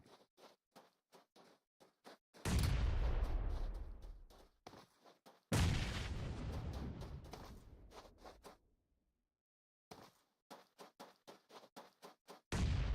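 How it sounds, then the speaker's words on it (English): Grenades blast in a PUBG Mobile battle royale scrim: two loud, heavy booms, each trailing into a long rumbling decay, set between quick sharp clicks and taps that sound like nearby footsteps or shots, with no voices. "Definitely using those grenades to an advantage."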